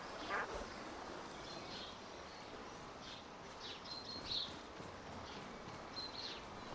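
Ducks quack faintly and intermittently in Chop Chop Inc, small bright calls scattered over a steady bed of ambient game noise with insect-like hum.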